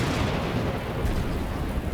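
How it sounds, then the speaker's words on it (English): Cannon fire from Union gunboats blends with a violent night thunderstorm over the Shiloh battlefield, a dense, continuous low rumble with no distinct individual blasts, loud and steady throughout. "Thunder and lightning combine with cannon fire from Union gunboats"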